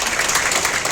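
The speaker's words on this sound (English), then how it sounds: "Give them a round of applause." Dinner guests at a farewell dinner applaud, a steady, dense wash of many hands clapping together, even in level throughout a brief moment.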